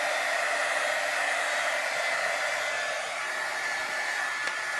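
A heat tool blows a steady, loud whooshing hum while melting embossing powder on a handmade card, constant and unbroken with no voices.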